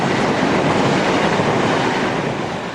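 British Rail class 86 electric locomotive 86-228 in InterCity livery passes by, a loud, dense, steady roar of wheels and motion that stays close and constant before easing slightly at the end, with no talking.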